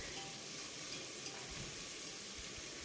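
Onion fries in a pan for soybean pulao, giving a continuous faint, even sizzle with small crackles and no distinct stirring strokes.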